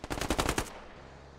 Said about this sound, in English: Someone firing has a bad origin point.